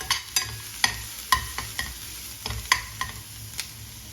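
Sliced onion, green chilli and garlic sizzle in a hot pan, with a steady fry hiss broken by repeated sharp clinks of a spoon stirring against the metal.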